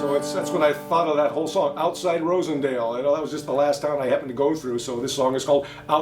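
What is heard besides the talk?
No everyday noises stand out.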